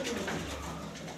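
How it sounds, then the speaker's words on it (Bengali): Soft low cooing of an Afshan grizzle pigeon hen, one brief, close, faint call with no other sounds. "এটা মাদি কবুতর"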